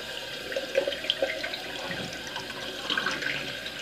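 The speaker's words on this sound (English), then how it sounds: "first I'm going to wash my face." A bathroom tap running steadily while someone washes their face, a continuous close stream of water with faint splashes and small clinks over it.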